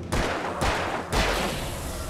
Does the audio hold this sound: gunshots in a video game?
yes